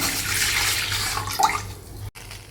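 Water pours steadily into a pan for about two seconds, fairly loud and close, then cuts off abruptly.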